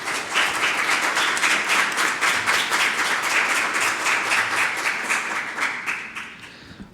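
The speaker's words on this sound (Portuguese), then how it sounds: "Uma salva de palmas a vocês" Applause fills a municipal council chamber during an extraordinary session: a steady, dense patter of many hands lasting about seven seconds, tapering off slightly at the close.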